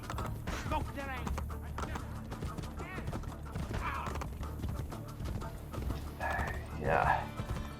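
In the Assassin's Creed: Brotherhood video game, a horse's hooves clip-clop in a steady run alongside snorts and whinnies, with game sounds and faint talk underneath.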